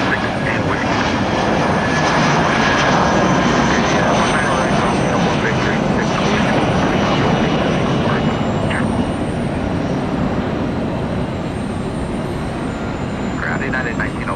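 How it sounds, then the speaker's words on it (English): An airliner takes off from runway 19 right at Tampa International Airport, bound for Fort Lauderdale, its engines roaring loudly and steadily throughout with the noise slowly easing near the end. "19 right, Southern Ops, taking off for FLL, Fort Lauderdale, Florida."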